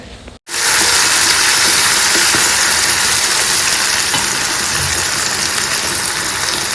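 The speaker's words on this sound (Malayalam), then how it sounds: "കടുക് ഫുള്ളായിട്ടൊന്ന് പൊട്ടിക്കഴിയുമ്പോഴത്തേക്ക് നമ്മുടെ അരിഞ്ഞു വെച്ചിരിക്കുന്ന ചെറിയുള്ളി, വറ്റൽമുളകും കറിവേപ്പില എല്ലാം ഇട്ട് നമുക്കൊന്ന് ഫ്രൈ ചെയ്ത് എടുക്കാം" Shallots, dried red chillies and curry leaves crackle and sizzle loudly in hot oil with popping mustard seeds, a steady dense frying hiss that starts abruptly after a brief gap and continues unbroken.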